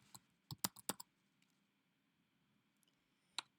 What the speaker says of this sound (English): I'm going to type total expenses.